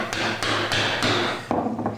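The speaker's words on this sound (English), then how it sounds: "So that is the most accurate way to chop your mortise" A mallet strikes a chisel chopping a mortise in wood, with loud, close, evenly spaced thumps of about one every third of a second, each blow ringing briefly through the timber, and no talking.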